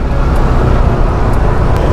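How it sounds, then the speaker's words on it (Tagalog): Loud, dense road traffic heard from an NMAX 155 scooter in a jam, a constant engine and wind rumble close by with no clear gaps and no speech. "Traffic again."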